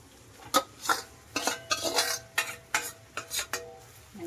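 Vegetables being stirred in a pan for a peas and potato cheese roll filling, a spoon scraping and clinking against the metal in a dozen quick, uneven strokes with a faint sizzle beneath.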